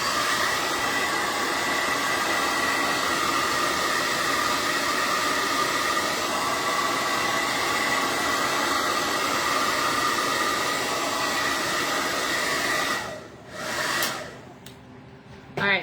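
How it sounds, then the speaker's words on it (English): A hair dryer blowing loudly and steadily up close, a constant rushing whir that cuts out near the end with a couple of brief bursts. "Gotta hit it with the hairdryer again"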